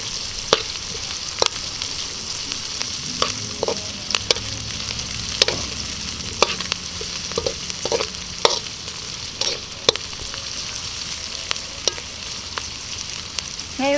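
Onions sauté in a pan for adobong kangkong with tofu, giving a steady, close sizzle broken by sharp, irregular clicks of a utensil stirring against the pan, with no talk.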